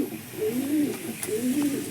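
Pigeons cooing close by, two rolling coos in quick succession over light background noise.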